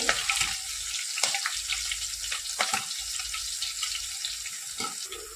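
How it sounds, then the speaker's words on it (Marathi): Garlic and green chillies fry in hot oil with a close, busy sizzle, crackling pops and sharper spits scattered throughout over a steady hiss. "लसूण आणि मिरच्या आपलं छान तळत आलाय"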